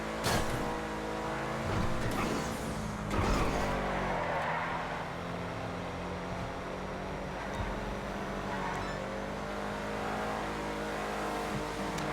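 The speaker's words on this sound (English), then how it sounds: "I was just driving my night shark" A Nightshark armored car's engine drones steadily while driving in GTA Online. There's a brief rev near the start, then a continuous close, loud hum with layered tonal harmonics.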